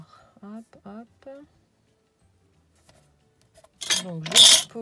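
A voice talks briefly, then after a pause something drops onto a glass craft mat with a loud, bright clatter and clink.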